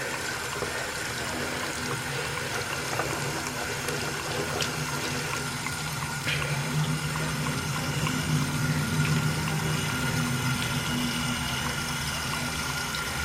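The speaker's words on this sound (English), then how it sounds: "I'm just going to wet it and rub it against the soap" Beauty blender sponge being wetted under running water and rubbed against soap on a cleaning mat, a steady close splashing and trickling with faint squishing and no talk.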